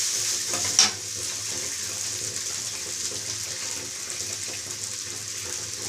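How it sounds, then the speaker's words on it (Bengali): Chowmein with egg and vegetables being tossed and mixed in a pan, a faint continuous hiss of frying with one sharp clink of the utensil early on, quiet and close. "এবার এর মধ্যে চাউমিনটা দিয়ে দেবো। মিশিয়ে দিলাম।"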